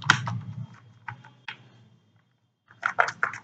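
Computer keyboard typing while stock items are entered in Tally ERP 9 accounting software: short clustered bursts of close keystrokes, a quiet pause, then a final flurry.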